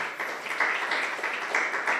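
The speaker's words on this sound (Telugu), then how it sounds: "చప్పట్లు కొడదాం అందరం కూడా" A church congregation claps together during a Sunday service, a dense, steady wash of many hands with slight swells in loudness, heard at moderate distance for about two seconds.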